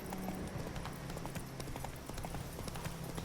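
Rapid, even hoofbeats of a galloping horse in The Witcher video game pound close and clear for a few seconds over a low droning game background, with no voices.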